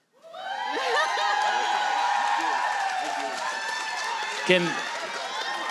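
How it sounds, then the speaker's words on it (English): Audience applause and cheering fill a national bootcamp event hall, with whoops and a sustained wash of clapping over several seconds and one sharper burst near the end, voices mixed into the crowd. "Fitz, why you clapping so loud?"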